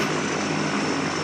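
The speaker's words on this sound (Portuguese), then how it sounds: "Esse avião é pra pegar eles." A propeller airplane in a Breaking Bad episode drones loudly and steadily overhead, a constant engine roar that cuts off abruptly at the end.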